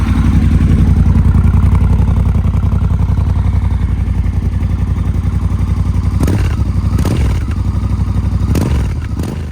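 A 2021 Triumph Scrambler 1200 XE motorcycle engine runs steadily at low revs with a deep, throbbing rumble, joined by a few brief rattling clatters toward the end.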